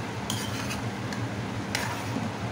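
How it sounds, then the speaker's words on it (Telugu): Chicken with ginger garlic paste is stirred while frying in a pan, giving a low steady sizzle with a few sharp metallic scrapes and clinks of the spoon against the pan. "ఈ విధంగా కలుపుకుంటూ ఫ్రై చేసుకోవాలి."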